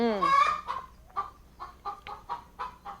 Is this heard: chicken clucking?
yes